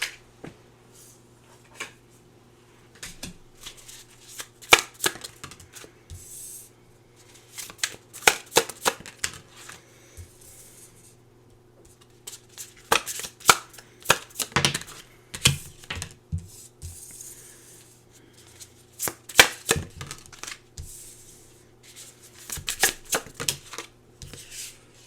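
Tarot cards are shuffled and riffled close by in irregular bursts of crisp, papery snaps and flutters. Quiet pauses fall between the bursts, and no voice is heard.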